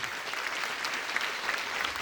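An audience at a political convention in Kumanovo claps in steady, dense applause that holds evenly throughout, with no voices rising above it.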